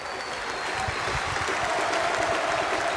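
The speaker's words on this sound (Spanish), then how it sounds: "Aplauso del público presente que se retira feliz" Crowd applauding after a Paraguayan league football match, Cerro Porteño beating Club Guaraní 2-0, heard as steady, fairly faint clapping from the stands spread through the whole stretch.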